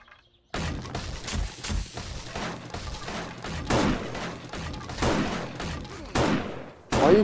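Gunfire in the video game 7 Days to Die, heard as a dense, close run of loud shots and thumps that rises and falls in bursts over several seconds.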